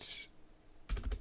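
A short burst of a few quick clicks on a computer keyboard while setting up Windows 8, after a faint hiss and a brief quiet pause.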